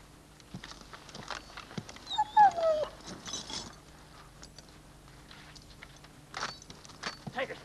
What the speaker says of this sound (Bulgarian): Това не е вълк.